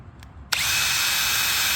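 A power drill starts abruptly and then runs steadily and loudly with a high whine, used while making model railway switch points by hand for a turntable switch; a faint click comes just before it spins up.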